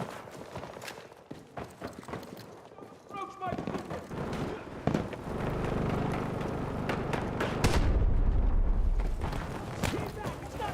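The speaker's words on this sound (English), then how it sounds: "Let's see how they like grenades." Grenade explosions in a shooter video game, several loud booming blasts and gunfire-like cracks mixed into dense battle noise, with a person talking over the action.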